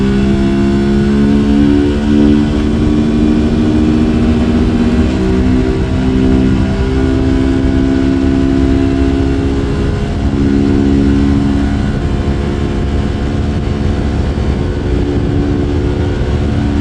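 Honda XR150L motorcycle with an opened exhaust, a CRF230F spark arrestor fitted without its sound baffle, revving and accelerating loudly up through the gears, engine pitch rising and falling with shifts, close and sustained.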